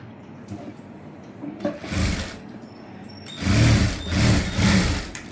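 Sewing machine stitching the side piece of a prince-cut blouse, with two short bursts of whirring motor and needle chatter followed by a longer, louder run in three surges, heard up close.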